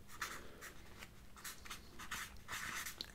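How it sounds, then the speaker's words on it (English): A pen writes a heading onto a map of the United Kingdom, a series of soft, close scratchy strokes in short bursts against a quiet background. "Now what I'm going to do is I'll just write United"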